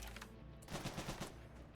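Rapid gunfire in the video game Rimworld, a short quick burst of about five shots, faint and low in level, with no talk.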